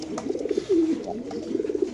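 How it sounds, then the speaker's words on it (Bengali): A grizzle pigeon coos at close range, its soft, repeated throaty calls rolling in short rhythmic phrases with one longer drawn-out note in the middle, heard alone with no talk. "কবুতরের ডাকটা দেখাই দিলাম"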